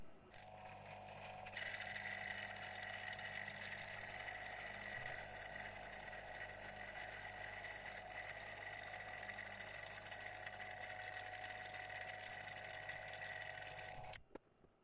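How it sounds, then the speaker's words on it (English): A vacuum pump drones steadily with a continuous mechanical hum and whine while it draws a vacuum on a chamber to degas epoxy poured over a PCB in a mold, then cuts off abruptly at the end. "we'll put it in the chamber and start drawing a vacuum."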